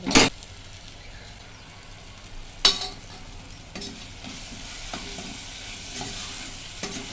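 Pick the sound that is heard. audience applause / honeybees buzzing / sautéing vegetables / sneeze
sautéing vegetables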